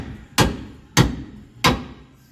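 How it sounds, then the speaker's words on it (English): Three sharp hammer blows ring out on a seized bolt, evenly spaced about half a second apart, loud and close with brief decays. "just smack her with a hammer"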